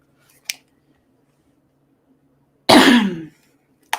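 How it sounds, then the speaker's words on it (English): A single short, rough throat clearing from a man about to read aloud, close to the microphone, preceded by a tiny click and followed by another faint click, in an otherwise quiet room. "Always have to clear your throat before reading."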